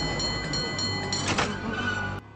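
A tram in a film scene lets out a sharp, sustained metallic screech that swells briefly midway and then cuts off abruptly.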